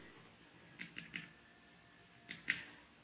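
Computer keyboard keys tapped in a quiet room while working in Civil 3D, a few light, close clicks in two short clusters with silence between.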